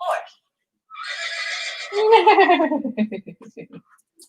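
A toy horse neighs loudly and electronically, a long whinny that breaks into a descending series of choppy snorting pulses, with a brief voice just before it.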